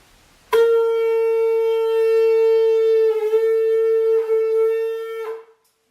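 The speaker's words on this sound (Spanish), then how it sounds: "la gente tocaba estas cornetas, estos cuernos, o cuernas que se llamaban" A traditional animal horn trumpet, a corneta, is blown in one long, steady, bright tone that holds for about five seconds with slight wavers before cutting off, heard alone and close.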